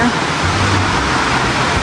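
Heavy rain pouring down on roofs and gutters at a family cookout, a loud, dense, unbroken hiss that fills the whole clip.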